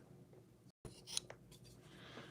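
Quiet, close snips and scrapes of scissors blades opening and closing, a few brief metallic clicks in a hushed room.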